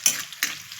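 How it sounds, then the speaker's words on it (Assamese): Onions frying to golden brown with whole cumin seeds, a soft sizzle with two brief stirring scrapes close by, no voices. "পিঁয়াজখিনি ধুনীয়াকৈ গোল্ডেন কালাৰ কৰি ল'ম লগত আকৌ গোটা জিৰাও অলপ দি দিছোঁ"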